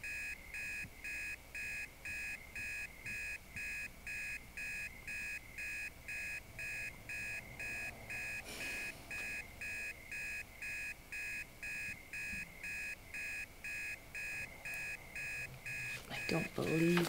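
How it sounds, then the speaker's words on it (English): An alarm clock rings at night in steady, repeating beeps that run unbroken from start to finish, with a few quiet movements and a brief rustle near the end. "Can you turn off your alarm, please?"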